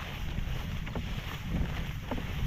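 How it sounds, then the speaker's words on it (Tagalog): Strong wind roars steadily against the microphone under an overcast sky during outdoor crop spraying, a dense low rumble with gusts that swell and ease throughout, and no voices. "Presko naman mag-spray ngayon kasi malakas yung hangin, makulimlim"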